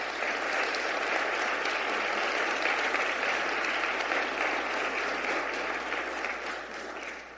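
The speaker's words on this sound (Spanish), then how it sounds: "Denle un aplauso al Señor." A church congregation applauds at an anniversary service, steady dense clapping filling the room at full strength and easing off slightly near the end.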